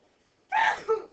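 A single person's sneeze, a sharp breathy burst followed by a second shorter puff, close and fairly loud against a quiet background.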